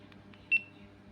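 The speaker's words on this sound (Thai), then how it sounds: "ก็ก็จะกดชัตเตอร์ตรงนี้เหมือนเดิมนะครับ" A GoPro Hero camera gives a short electronic beep as the shutter is pressed to take a photo, a single brief tone against a faint background hum.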